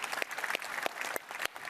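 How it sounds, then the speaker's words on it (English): Applause from a conference audience at Cisco Live in Amsterdam, brief and fairly faint, with a scattering of distinct claps standing out from the steady clapping. "big round of applause for Lenny, please"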